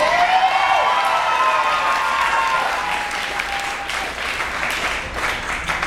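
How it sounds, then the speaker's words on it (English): A wedding audience breaks into loud applause, a dense burst of clapping that swells at first and then slowly thins, with a few cheers mixed in. "One more clap for that, come on."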